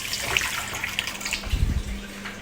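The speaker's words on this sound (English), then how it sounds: "Make sure you wash your hands, guys." Tap water runs steadily into a kitchen sink while hands are washed during cooking, a continuous close splashing hiss with a few soft knocks.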